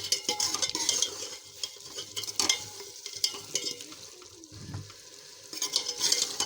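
Cut potatoes and moongre fry and sizzle together in a pan, with a steady crackle broken by repeated scraping stirs from a spoon, moderately close and without speech.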